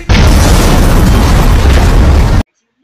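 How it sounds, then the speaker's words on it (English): A studio blows up in a huge, loud explosion: a dense roaring blast that holds at full force for over two seconds, then cuts off abruptly into silence. "They're gonna explode the entire studio!"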